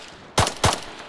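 Two sharp gunshots crack in quick succession in a military video game. They are loud and close, and no voices are heard.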